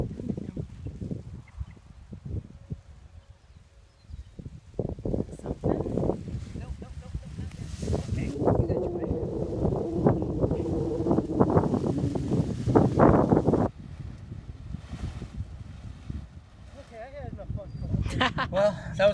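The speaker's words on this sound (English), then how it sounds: "I think it's a little too windy for us" Strong gusty wind during a kiting session buffets the microphone in rough, uneven bursts, loud and close, rising and falling, with people talking over it.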